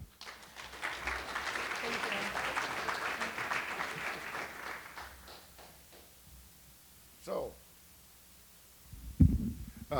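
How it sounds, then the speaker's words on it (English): Audience applause fills a university lecture hall as the guest speaker is introduced, loud and steady for about five seconds before fading, followed by a brief voice and a few louder thumps near the end. "Please give a round of applause to Larry"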